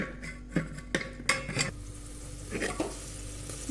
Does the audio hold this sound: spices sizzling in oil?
yes